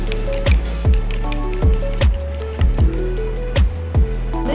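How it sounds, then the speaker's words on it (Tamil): Coffee powder, sugar and egg white are beaten together in a bowl for a homemade face pack, giving a steady series of wet, squishy strokes roughly twice a second, close and fairly loud, with no talking. "இந்த காப்பித்தூள் சர்க்கரை முட்டை வெள்ளைக்கரு இதெல்லாம் நல்லா மிக்ஸ் ஆகணும் நல்லா பீட் பண்ணி எடுக்கலாம்"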